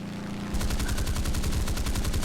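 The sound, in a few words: Grumman F8F Bearcat aircraft guns firing in a video game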